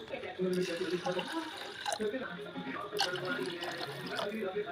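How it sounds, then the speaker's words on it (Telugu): Water poured into a pot of soaked rice for khichdi, a steady splashing pour with dripping and sloshing, close by and fairly loud throughout. "ఇప్పుడు ఇందులో వాటర్ యాడ్ చేసుకుందాం."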